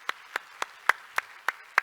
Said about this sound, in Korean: 우리 박수로 한번 축복합시다.